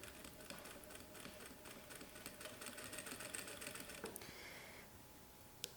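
A sewing machine stitches bias binding, cut on the diagonal, around a rounded edge in a quiet room, its needle running in a fast, even chatter that pauses briefly near the end, faint and without voices.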